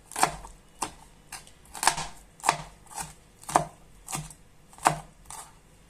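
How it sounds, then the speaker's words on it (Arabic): A knife chops hot chili peppers on a board in about ten crisp, evenly spaced strikes, close and clear with no talking. "وبكده خلاص قطعت الفلفل كله"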